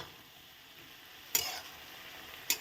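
Radhuni spice paste is stirred into greens frying in a pan for koolakhara ghonto: a faint, low sizzle broken by two sharp utensil scrapes a second apart.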